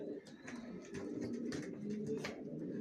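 Racer pigeon chicks coo steadily and softly, layered low murmuring calls with faint higher chirps running throughout, close by and without pause.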